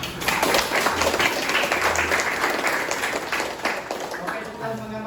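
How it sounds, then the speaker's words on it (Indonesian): A classroom group applauds for the students, a steady patter of clapping lasting several seconds and fading toward the end, with some talk mixed in. "Kita beri aplaus untuk mereka."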